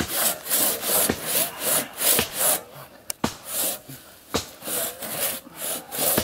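A hand saw rasps through wood in steady back-and-forth strokes, close and fairly loud, with a few sharp clicks between strokes.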